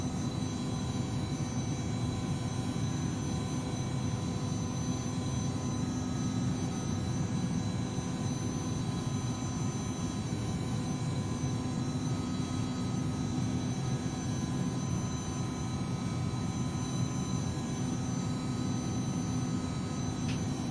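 Cockpit of a Citation CJ4 business jet climbing after takeoff in a flight simulator game, a steady loud engine drone with a low hum and faint high whine, unchanging throughout and without any voices.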